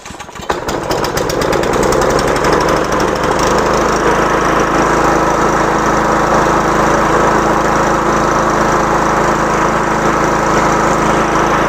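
A small lawn mower engine catches after a brief cranking sputter, then runs loud and steady at a constant buzzing idle close by, with no voices.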